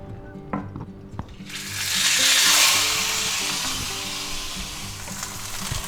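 A thick chuck roast, cut into a steak after sous vide, hits a hot pan with a couple of clunks, then a loud, steady sizzle swells and settles into continuous frying.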